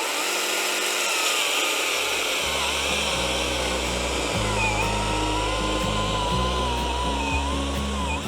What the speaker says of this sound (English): Let's see what this 14-inch bar and chain will do on the DeWalt saw.